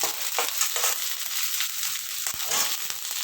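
Garlic, green chili and green onion stir-fry over high heat in a pan, a steady loud sizzle with brief scraping strokes and no talking.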